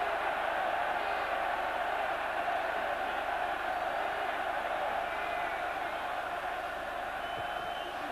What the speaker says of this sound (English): The crowd getting behind Wales.